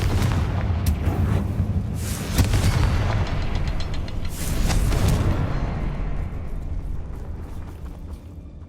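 A Confringo fire spell explodes in the video game Hogwarts Legacy, loud booming blasts with crackling bursts around two and five seconds, then a rumbling tail that slowly fades.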